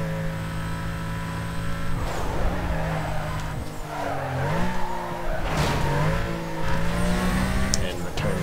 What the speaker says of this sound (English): I listen to the left and right to see where her engine is